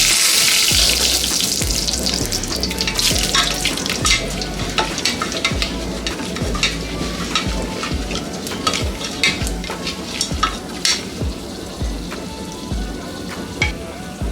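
Ten to fifteen cashews frying in a pan for chutney pulao make a loud, close sizzle. Quick crackling clicks and pops grow more frequent as it goes on, and no one talks.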